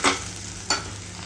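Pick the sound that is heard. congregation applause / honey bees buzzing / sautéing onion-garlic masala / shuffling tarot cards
sautéing onion-garlic masala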